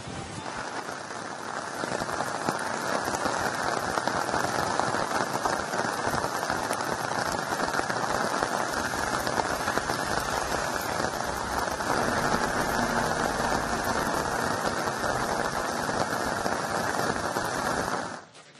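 Heavy monsoon rain pours steadily in Dakshina Kannada, a dense, even hiss of drops striking surfaces that stays close and unbroken for the whole stretch, with no voices.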